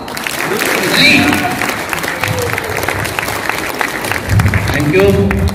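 An audience claps loudly at an RCM celebration event in India, with bursts of applause swelling and fading while voices carry over the top.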